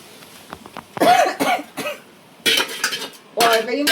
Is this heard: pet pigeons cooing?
no